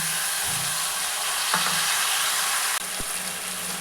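Onion, tomato and garlic paste fries with chicken in a hot pan, a loud steady sizzle with a few scraping stirs and a sudden knock near the end, close and with no voices.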